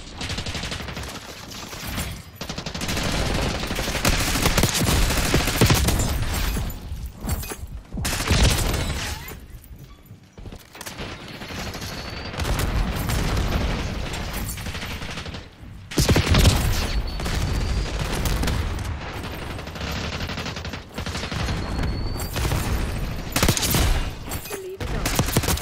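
Dense, loud gunfire during Call of Duty multiplayer play, with shotgun blasts mixed into continuous bursts of shooting and explosions that fill the whole stretch, broken by only a couple of brief lulls.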